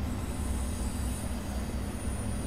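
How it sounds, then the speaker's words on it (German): A RailAdventure V60 locomotive rolls on track in the Train Sim World game. Its wheels give a continuous loud rumble and a high steady squeal throughout, with no talking. "Die Lokomotive läuft noch im Gleis."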